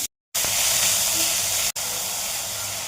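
Fenugreek leaves sautéing in a little oil in a wok give a steady broadband sizzle and hiss, close and fairly loud, broken by a brief silence near the start and a short dip partway through.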